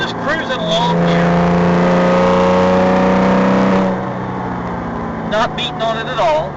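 A hand-built Porsche R43 flat-six engine drones and pulls steadily as the car accelerates, its tone climbing and holding before easing off, with chirpy sounds over the rumble.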